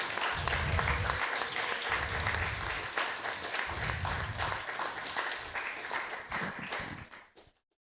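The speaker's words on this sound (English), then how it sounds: "Let's give them a big round of applause." Audience applause for a lower elementary class at a temple gathering, a dense sustained clapping that fills the room for about seven seconds, then stops abruptly.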